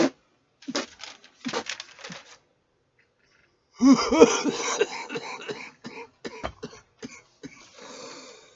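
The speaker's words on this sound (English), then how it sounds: "Ow. Coughing hurts." A person coughs in several harsh, close bursts, a few short hacks, then a longer, rougher fit after a pause, trailing into smaller coughs.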